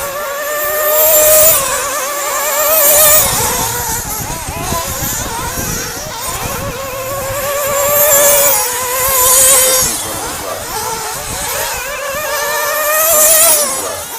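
Race cars lap Valley Raceway during qualifying, engines droning loud and continuous with rising and falling revs as cars sweep past, their tones wavering over the full stretch without talk.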